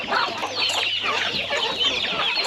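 Chickens, hens and roosters clucking together on a farm during the rainy season, a dense, steady chorus of overlapping clucks filling the whole moment, fairly close, with no talking.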